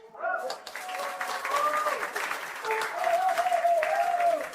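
Steady applause from a crowd, loud and sustained throughout, with a voice talking and calling out over the clapping.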